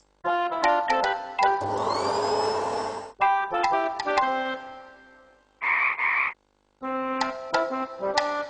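A Hoover vacuum cleaner toy sound gives a roughly one-and-a-half-second whooshing whine among plinking toy notes and a croak, loud and close, with no voices.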